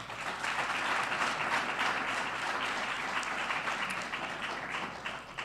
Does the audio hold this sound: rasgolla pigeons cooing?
no